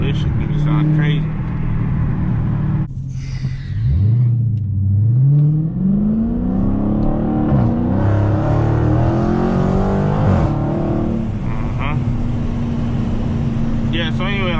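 A Dodge Challenger Scat Pack's V8 revs up and settles back in a close cabin recording, the engine note rising and falling in long sweeps with crackling exhaust pops, while someone talks over it.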